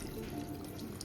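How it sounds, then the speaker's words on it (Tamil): Water trickles and splashes steadily into a pressure cooker holding goat intestine, a soft, close pour with no talk over it. "இது வேகிற அளவுக்கு தண்ணி ஊற்றிக்கலாம்."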